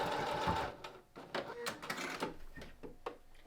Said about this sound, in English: I'm going to take it off and just do a straight stitch.